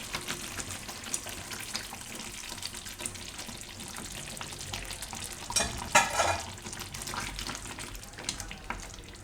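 Methi malai gravy with cream boiling in a pan: close, soft bubbling and sizzling that runs throughout, with a brief louder burst of stirring midway and no voices.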